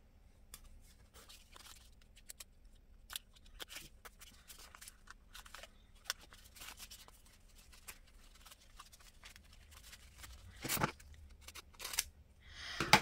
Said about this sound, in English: I got to cut that little bit off, the piece that I'm working with